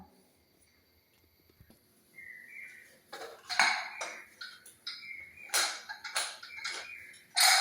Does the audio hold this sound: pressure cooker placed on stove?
yes